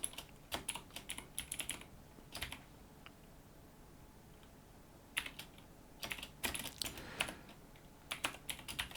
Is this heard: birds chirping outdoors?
no